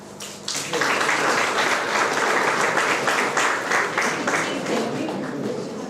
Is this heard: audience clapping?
yes